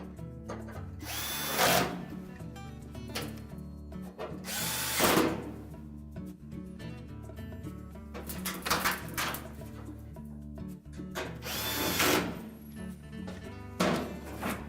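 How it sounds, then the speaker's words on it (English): A power drill reinstalls retaining screws on a Whirlpool range during a cooling blower kit repair, giving several short loud whirring bursts separated by pauses, with light clunks between them. "And again, reinstall the retaining screws."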